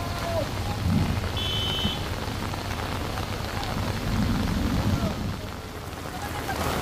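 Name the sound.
heavy rain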